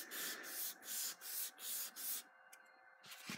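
Hand sanding works over a chef knife handle and its metal bolster, with about six steady, even rasping strokes in a regular rhythm, close and fairly quiet, before they stop abruptly.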